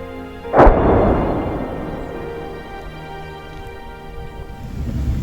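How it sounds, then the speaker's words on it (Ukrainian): Distant artillery and glide bombs striking near the front line in Donetsk region: one heavy boom opens, then a long low rumble that fades and swells again, with no talk. "подалі вже чутно, як лягають каби, працює артилерія"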